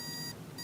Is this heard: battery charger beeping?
yes